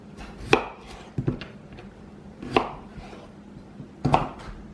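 A knife cuts through unpeeled potatoes on a board, giving a handful of distinct chops at uneven intervals with short quiet gaps between them, close and clear with no voices.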